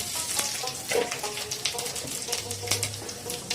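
Panch phoron five-spice tempering sizzles in hot oil for mango pickle, a crackling, spitting fry with sharp pops under a steady hiss, close and moderately loud.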